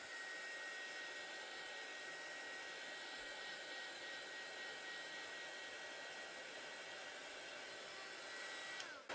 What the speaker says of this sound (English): And then with your embossing gun,